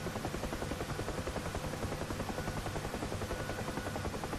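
UH-1 Huey helicopter in the DCS flight simulator climbing after takeoff, a steady loud rotor thump and turbine roar pulsing evenly throughout with no talking.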